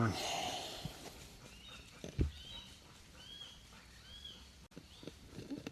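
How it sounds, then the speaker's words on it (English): Several faint, high-pitched calls from a Cooper's hawk repeat at short intervals, distant and thin over soft rustling and footsteps on a trail. "That's a Cooper's hawk."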